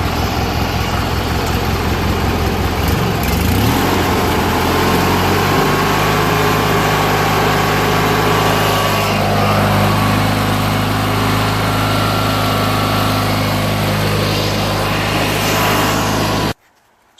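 A Briggs & Stratton opposed-twin engine on a Murray 16 HP 46-inch riding lawn mower idles nearby after carburetor and fuel work, a steady loud putter that settles lower after a few seconds, then cuts off abruptly at the end.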